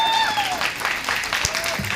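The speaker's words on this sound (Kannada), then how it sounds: "ಒಂದು ಜೋರಾದ ಚಪ್ಪಾಳೆ ಬರಲಿ" Applause from an audience following a Bharatanatyam rangapravesha dance debut, a steady patter of many clapping hands mixed with voices talking over it.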